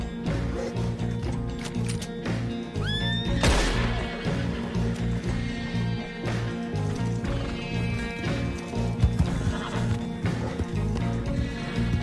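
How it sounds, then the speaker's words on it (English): Horse in the video game Red Dead Online whinnies loudly with a rising call over a music bed, with steady clip-clop of hooves and game sounds throughout. "It's a good horse."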